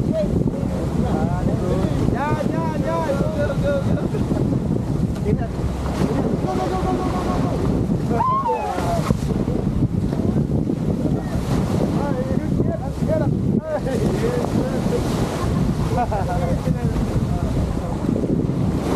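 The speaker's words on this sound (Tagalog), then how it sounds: "Malalakas na alon." Strong ocean waves churn and rush at Boracay's Keyhole rock area, with a continuous loud wash of surf and heavy wind buffeting the microphone, a boat's hum faintly underneath and a few voices chattering.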